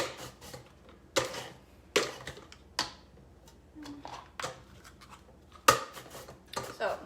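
A knife cutting zucchini into julienne strips makes sharp, irregular chops and taps on a board, each brief and fairly close, with quiet gaps between them.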